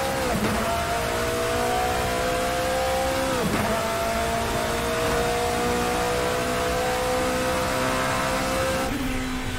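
A classic endurance race car from an Assetto Corsa mod pack revs loudly and continuously, its engine note rising in long sweeps with sharp drops at gear changes, close and steady without any talk.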